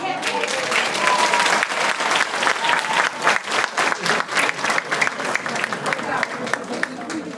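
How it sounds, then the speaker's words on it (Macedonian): A kindergarten end-of-year audience in a Skopje cultural hall claps as a door opens, a dense, loud, continuous round of applause from a crowd filling the whole stretch, with faint voices mixed in. "Вратата се отвори, аплаузи!"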